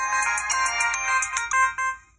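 A standard phone ringtone plays alone, a bright, quick run of repeated electronic tone pulses lasting about two seconds, close and clear with no voices.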